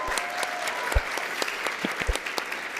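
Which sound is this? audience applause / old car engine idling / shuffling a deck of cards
audience applause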